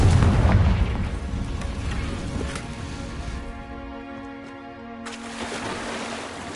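Confringo spell explosions in the video game Hogwarts Legacy: heavy booming blasts with a rumbling, wave-like wash, then a quieter tonal lull before another loud burst erupts near the end.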